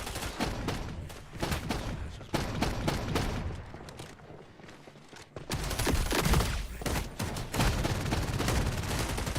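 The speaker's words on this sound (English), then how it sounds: "How are all those shots missing?" Rapid gunfire from the tactical shooter Valorant during a ranked match, with dense bursts of shots cracking repeatedly, a short lull near the middle, then heavier sustained firing.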